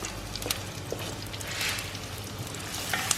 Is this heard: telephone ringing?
no